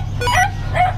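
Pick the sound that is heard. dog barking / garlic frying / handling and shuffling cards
dog barking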